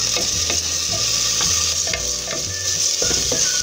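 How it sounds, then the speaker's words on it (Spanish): Diced onion and minced garlic frying in a pan, a steady bright sizzle with repeated scraping strokes of a spoon stirring at a regular rhythm, close and clear. "Y en este momento es que yo voy a agregar el ajo molido, la cuchara de ajo molido. Igualmente vamos a dejar que dore."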